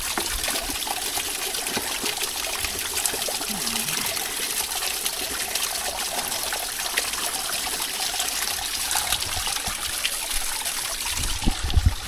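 Clean water trickles and flows steadily along a trekking trail on Naneghat, a continuous close gurgle with brief splashy bursts near the end, no talking.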